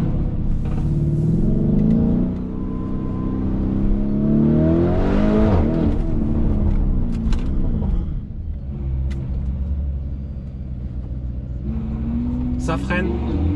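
A Lamborghini Urus SUV cruises in comfort (Strada) mode, its engine a low rumble swelling and easing beneath near-continuous talk inside the cabin.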